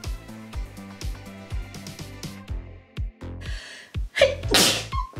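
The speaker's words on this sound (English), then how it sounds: "Why do I sneeze every time?" A single sharp sneeze bursts out near the end over background music with steady beats, close and loud against the backing.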